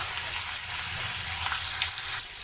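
Onions fry steadily with ginger, garlic, curry leaves and chili, a continuous close sizzle with faint stirring clicks throughout.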